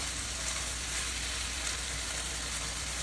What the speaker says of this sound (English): Now I'm going to add Irish beer, Guinness.